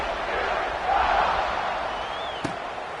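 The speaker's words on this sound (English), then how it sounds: "this crowd is buzzing after that last score" Stadium crowd roaring and buzzing in a tie game during the third quarter of an NCAA 26 college football video game, Utah against TCU, a broad steady noise under commentary with a brief sharp thud near the end.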